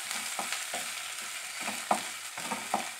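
Ginger garlic paste fries lightly in hot oil in a pan, a soft steady sizzle with a few light stirring scrapes and taps, close and without talk.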